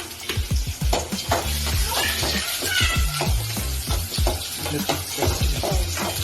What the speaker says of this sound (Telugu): ఈ విధంగా నూనెలో బాగా ఉల్లిపాయలను, తగినన్ని పచ్చిమిరపకాయలను వేసుకోవాలి.